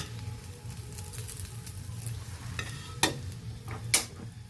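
A stuffed potato paratha sizzles softly in a pan, a low steady frying hiss broken by a few sharp scraping clicks near the end.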